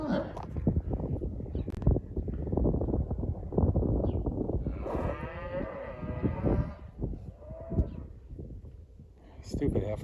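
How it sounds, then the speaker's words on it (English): Heifers on a farm moo loudly in a long drawn-out call, with wind noise on the microphone and a person talking over and around it. "Stupid heifers."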